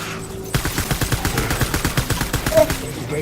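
Rapid gunfire in Death Stranding tearing through bamboo leaves, a quick rhythmic burst of shots lasting about three seconds, close and loud.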